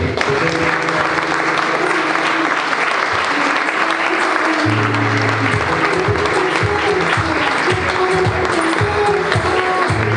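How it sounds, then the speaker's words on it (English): An audience at an awards ceremony gives a loud, sustained round of applause lasting about ten seconds, with a few voices and cheers mixed into the clapping. "big round of applause for this year's Golden Boots"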